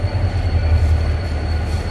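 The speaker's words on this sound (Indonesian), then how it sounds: "kereta api." Train at a station in South Korea on a high-speed KTX line, a steady loud low rumble of rolling stock running continuously with no voices.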